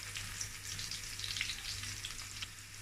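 Onions frying in olive oil for a party-style beef in tomato sauce, a steady bright sizzle and crackle running continuously at moderate level with no voices.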